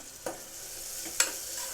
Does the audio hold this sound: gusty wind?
no